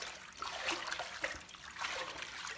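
Bath water with a dissolved bath bomb being stirred by hand, a soft continuous swishing and trickling of liquid at low level, steady for a few seconds with no talk.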